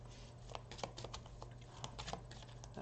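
Soft, quick riffling and light tapping of tarot cards being shuffled by hand, close and fairly quiet, with no voices.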